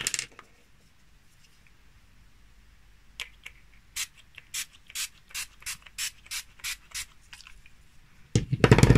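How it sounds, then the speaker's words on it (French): A can of Mislin makeup setting spray is shaken in a quick run of a dozen or so sharp rattling strokes, close up and alone, followed by a burst of spray at the end. "Il faut surtout bien le secouer parce que si vous le secouez pas bien, vous allez avoir des petits points blancs."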